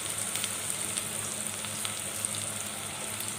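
Chopped green chillies and onions fry in hot oil, giving a steady, close, crackling sizzle that runs without a break and carries no voices.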